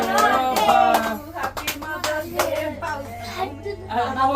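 Hands clapping at a small family Mother's Day celebration, a few uneven claps mixed with a voice and other people talking close by.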